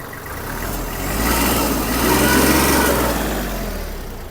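The diesel engine of a Kubota GL-29 mini tractor, a 1500 cc D1503, revs up steadily, rising to a loud roar and easing back slightly, with a low rumbling throb throughout.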